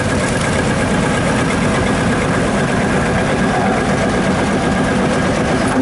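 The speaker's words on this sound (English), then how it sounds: "drove one of those half-track roadless tractors that's going along now. It's very, very noisy" A half-track roadless tractor at the Berwick St John Country Fair 2024 runs with a loud, steady, rumbling low engine note and a faint knocking texture, close by, with no talking over it.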